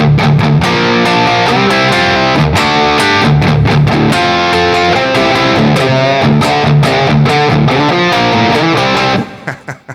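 A heavily distorted electric guitar set to a Brown Sound preset plays a riff with dense chords and sharp rhythmic stabs, loud and continuous, ending with a few quick hits and a sudden stop.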